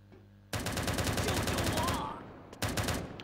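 Rapid automatic gunfire in the mobile shooter game Lost Light, a dense loud burst lasting about a second and a half, then a short gap and a second burst.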